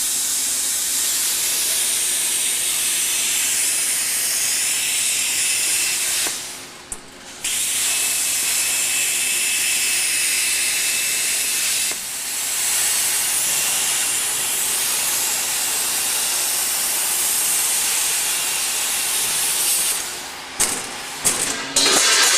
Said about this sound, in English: the plasma cutter basically is superheating it and melting right through the stainless steel